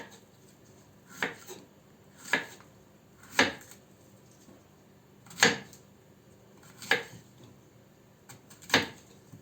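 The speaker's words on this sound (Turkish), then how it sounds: "Diğer kabağımı da hızlı bir şekilde doğruyorum." Six sharp, evenly spaced knife chops cut zucchini on a cutting board, close and crisp, with quiet pauses between each stroke.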